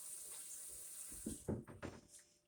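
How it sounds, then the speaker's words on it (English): Tap water runs while hands are washed under it, a quiet steady flow broken by a few brief splashy bursts as the hands move through the stream. "Wash my hands."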